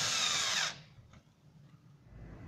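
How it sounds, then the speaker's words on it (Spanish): A PROMAKER PRO-SD480 cordless screwdriver drives a 6 x 1-1/4 inch self-tapping screw into a wooden block, a loud whirring motor burst that stops abruptly after well under a second, leaving quiet room tone. "Con este destornillador también podrás hacer trabajos sencillos como ingresar un tornillo autoenroscante, como es este caso, el de 6 por 1 y un cuarto de pulgada en un taco de madera."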